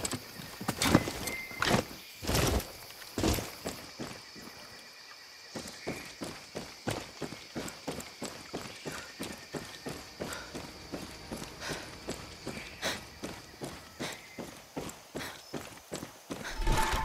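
Horse hooves clip-clopping in the Far Cry 6 video game, a steady walking rhythm of clear, close hoofbeats that runs throughout.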